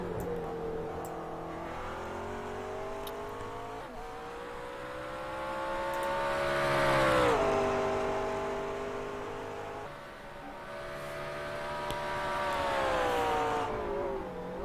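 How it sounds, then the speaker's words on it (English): Race car engines in a racing video game whine and rise in pitch through sustained acceleration, falling back at shifts and climbing again, loud and continuous throughout with no talk. "hopefully you guys can hear the engine sounds and stuff"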